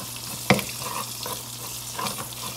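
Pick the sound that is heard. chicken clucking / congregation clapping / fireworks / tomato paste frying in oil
tomato paste frying in oil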